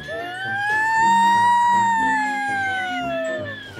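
A voice imitates a fire truck siren by mouth, rising and falling in a long wailing tone over music playing underneath.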